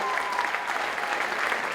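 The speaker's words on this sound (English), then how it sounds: "please give a round of applause to these folks here" Audience claps continuously in a brief, dense burst of applause, with a faint voice underneath.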